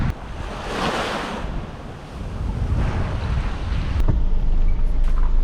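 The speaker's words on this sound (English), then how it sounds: "So where I'm at right now, I am at the Billy's Bay Fishing Beach." Surf and gusty wind at Billy's Bay fishing beach in Treasure Beach, St. Elizabeth, Jamaica: a continuous broad roar of breaking waves with wind buffeting the microphone, swelling louder toward the end, with no voices.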